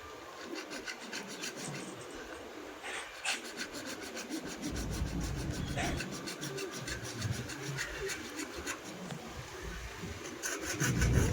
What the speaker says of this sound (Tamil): கரெக்டாக வந்து பைப்பில் வந்து கட்டிங் பண்ணுறேன்